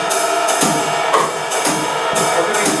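A drum kit plays a steady groove, hi-hat ticking through eighth notes while loud, broad hits land roughly every half second, close and full with no voices.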